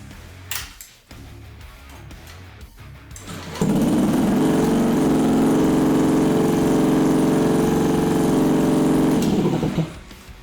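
A Honda Metropolitan scooter on the workbench, wired with a charged battery, sits quiet through some handling noises, then its small engine fires up and idles steadily and loudly for several seconds before cutting off.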